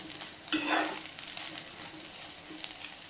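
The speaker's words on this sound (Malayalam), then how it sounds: "എന്നിട്ട് നമ്മളിതാ ഇതേപോലെ വറുത്തെടുക്കണം കേട്ടോ" Steady sizzling of food frying in a pan, with a louder burst of crackle early on, then settling into a continuous close hiss.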